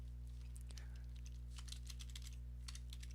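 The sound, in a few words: typing on a computer keyboard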